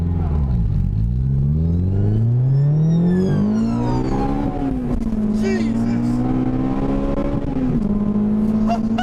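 Honda Integra Type R DC2 VTEC engine accelerating hard from inside the car, revs climbing loudly through the range, a gear change, then pulling again in a strong continuous drone as people talk over it.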